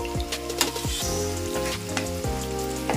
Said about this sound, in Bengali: ভাজা ভাজা করে নিচ্ছি যাতে পেঁয়াজ রসুন এগুলো তেলের সঙ্গে ভাজা হয়ে যায়